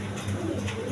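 Pigeons cooing softly close by, a short low murmur of coos with no one talking.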